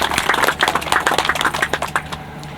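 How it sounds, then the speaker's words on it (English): Audience applause at a high school groundbreaking ceremony, for the state delegation: steady, dense clapping from a crowd, fairly close and loud, with no talk over it. "So I want to give them a round of applause for always continuing our school projects and the success of them."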